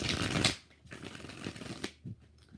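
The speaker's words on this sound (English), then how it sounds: "All right, 5 shuffles." Tarot cards are shuffled in a few quick riffles close by, a dense crisp burst followed by lighter flicks and taps, with no voices.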